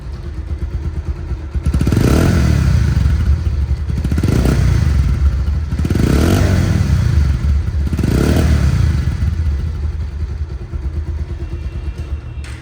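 A second-hand Bajaj Pulsar motorcycle engine runs close by, idling and then swelling through four rhythmic revs before settling back to a steady idle.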